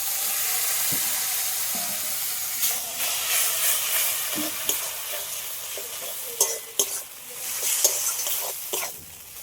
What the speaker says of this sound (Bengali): সবগুলো একসাথে একটু ভালো করে কষিয়ে নেব